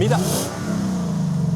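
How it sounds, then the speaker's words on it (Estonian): Lexus LS460 V8 engine starting up and revving, a brief loud rising rev that settles into a steady low idle hum, heard close with talk over it. "Meile assistent paneb auto tööle"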